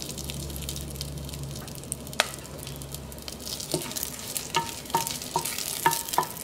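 Whole spices, including cinnamon, star anise, cloves and bay leaves, fry in hot oil in a pressure cooker for vegetable biryani. A low hum and sizzle comes first, then a spoon scrapes and clicks against the pot in uneven strokes.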